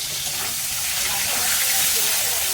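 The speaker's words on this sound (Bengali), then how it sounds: "আর এখানে পটল ভাজা করছে।" Pointed gourd slices frying in a pan in a busy kitchen, a continuous bright sizzling hiss that fills the scene, with muffled voices underneath.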